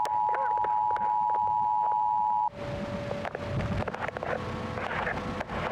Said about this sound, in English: She made Ashley's phone emit a noise?